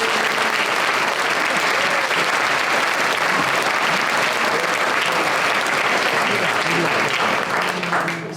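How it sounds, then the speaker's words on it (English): Sustained, dense applause from an audience at a candidates' forum, loud and steady for about eight seconds with no break, fading slightly at the very end. "let's have a round of applause for all of these fine candidates"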